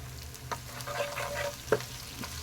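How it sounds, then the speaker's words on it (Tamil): Onions sauté in a pan with ginger garlic paste and salt while an egg fry is being cooked. There is a steady close sizzle, with occasional scrapes and stirs from a spoon. "இப்போ வெங்காயம் ஓரளவு நல்லா வதங்குற வரைக்கும் வெயிட் பண்ணலாங்க"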